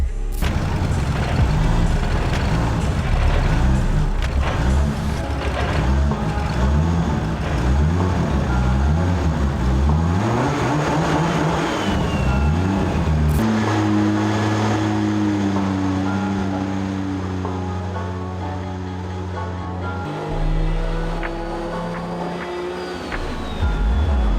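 A Nissan S14 fitted with a 2JZ engine runs on a dyno, its loud exhaust roaring steadily with rising and falling revs before settling into a lower, lumpy idle, with no talking over it.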